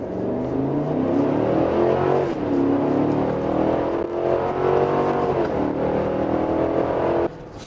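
A Cadillac Escalade's engine revs steadily and loudly as the SUV accelerates, its tone climbing in continuous rising sweeps with brief dips as gears change, heard alone from inside the cabin.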